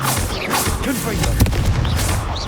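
Confringo, the fire-blast spell in the Hogwarts Legacy video game, lands as repeated loud booming blasts and pops in quick succession, dense and close with little pause between hits.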